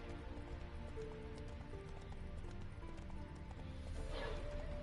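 Roach, the horse in The Witcher 3, trots along under a dense game soundscape, with steady hoof clip-clops beneath ambient music and background sound throughout, and a brief brighter swell near the end.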